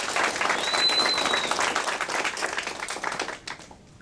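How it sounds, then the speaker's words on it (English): Sustained applause from a crowd at a high school spring signing ceremony for student athletes, dense clapping that fills the space and gradually thins out toward the end. "we'd like to give a round of applause"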